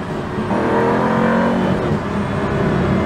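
A Pagani Huayra hypercar's engine rises then jolts through a single-clutch gear shift, loud and close, with a steady motor drone carrying on after the kick.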